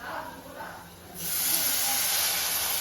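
Tamarind water poured into a hot pan of roasted spice powders for Kerala-style inji puli sets off a sudden loud hiss and sizzle that swells and holds after a quieter start.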